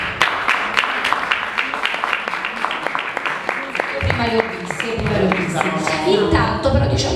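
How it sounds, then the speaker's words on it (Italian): An audience claps in welcome at a book presentation in a Naples café, a steady patter of many hands running throughout, with voices and murmuring joining in over the second half. "e come sempre accogliamo con un applauso ai nostri microfoni"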